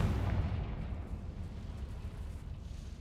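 A Confringo fire spell explodes in a Harry Potter video game, giving a deep, rumbling blast that swells at the start and then rolls on as a loud, steady low roar without any voices.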